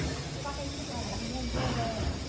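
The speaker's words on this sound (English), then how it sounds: "The compressor unit." A compressor unit runs in an ice factory as a steady, loud hiss and hum with a constant low drone and no clear changes.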